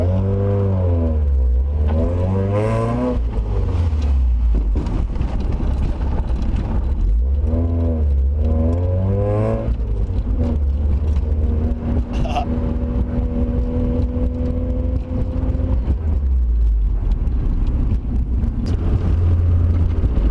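A Mazda Miata fitted with coilovers drives along, its engine revving up and easing off in repeated rising and falling sweeps, then settling into a steady drone at cruise, close and loud throughout.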